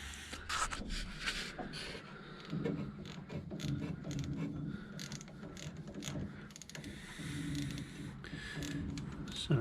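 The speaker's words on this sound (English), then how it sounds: "So that is coming apart with a 932 socket" Repeated ratcheting clicks and creaks of a socket wrench loosening a bolt during bonnet and radiator removal on an MGA 1600 restoration, close up and continuous with brief pauses.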